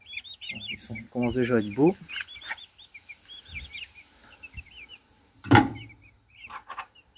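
Outdoors on a small poultry farm on a windy day, hens cluck and chicks give high, repeated peeping chirps throughout, with a loud squawk near the end and a person talking over parts of it.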